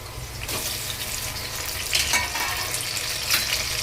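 Tomatoes tossed into a pan of sautéed onions fry with a dense, loud sizzle that swells in bursts as they hit the hot oil, with faint stirring underneath.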